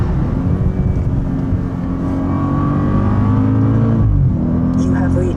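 An Audi S8 Plus being driven on a day trip in Germany, a loud engine drone and road roar inside the cabin that swells as it accelerates, with voices talking over it.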